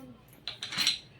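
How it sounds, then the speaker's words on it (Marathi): A metal lid is set onto a pressure cooker sitting on a lit gas stove, giving a couple of brief, faint metallic clinks and scrapes. "आता लावू आपण ढक्कन।"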